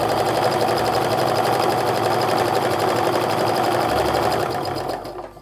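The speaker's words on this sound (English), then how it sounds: "I'm also going to sew 1/4 inch down the other side as well" Sewing machine running continuously to stitch charm pack fabric for a Christmas stocking, making a fast, even mechanical whir that sounds close and loud, then winds down at the end, with no talking.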